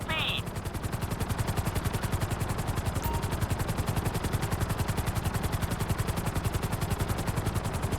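A helicopter in GTA 5 flies with a steady rapid rotor chop, loud and continuous throughout, the rhythmic thumping dominating with a brief high tone near the start.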